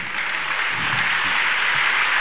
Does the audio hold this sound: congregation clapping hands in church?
yes